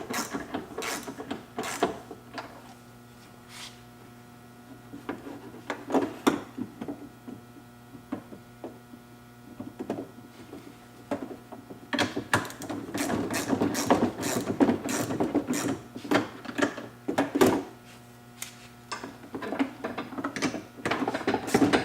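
Bolts being tightened on a T-slot bed rail of a Polaris Ranger cargo box, with irregular ratcheting clicks, scrapes and metallic knocks close by, growing busier and louder in the second half.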